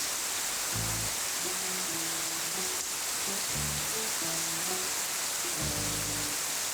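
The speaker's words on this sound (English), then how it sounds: "That night was actually really cozy, hearing the sound of the rain and just watching the rain from our balcony." Steady rain falling at Lake Como, heard as a broad, even hiss close by throughout, with soft low musical tones underneath and no talking.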